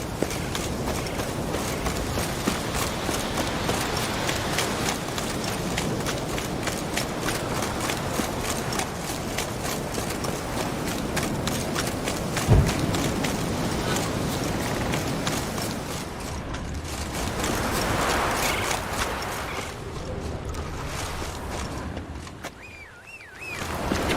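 Roach, Geralt's horse in The Witcher 3, gallops with steady rhythmic hoofbeats over a continuous wash of game ambience and music, fairly loud throughout and thinning toward the end.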